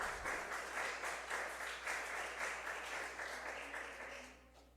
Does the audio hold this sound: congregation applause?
yes